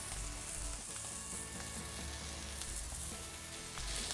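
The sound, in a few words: onions browning in pan with picanha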